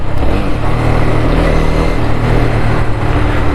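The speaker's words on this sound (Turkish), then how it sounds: "Araba çıktı." A car drives past on a street, with steady broadband engine and road roar holding loud and close for several seconds, no speech over it.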